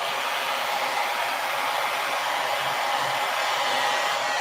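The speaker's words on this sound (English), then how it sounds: "All right, here comes the blow dryer." A hair dryer runs on its low setting beside a paper-painting setup, giving a steady, close, unbroken whoosh of airflow with no voices over it.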